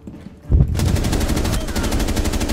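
Loud rapid automatic gunfire from the video game Rainbow Six Siege bursts in after a brief quiet moment, then rattles on continuously close up with no talking over it.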